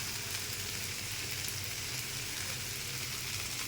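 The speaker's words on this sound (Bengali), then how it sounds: "এখন আর অল্প একটু সময় ভাজলে কুমড়োটা ভাজা হয়ে যাবে" Pumpkin frying in a pan for kumro chorchori, a steady dense sizzle that holds evenly throughout with no talk over it.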